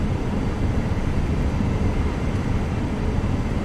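A FlightFX Vision Jet G2 taxis quickly in Microsoft Flight Simulator, giving off a steady, dense engine rumble and broadband roar that stays constant and close throughout, with no talking.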